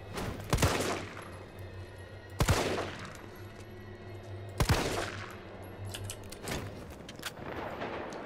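Gunfire in the Resident Evil 3 Remake demo on PC, four sharp shots spaced about two seconds apart over a low in-game hum.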